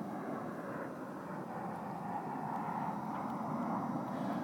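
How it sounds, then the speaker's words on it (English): An Alaska Airlines airliner passes overhead as a steady, broad jet roar, distant but continuous and fairly even throughout. "That is an Alaska airplane."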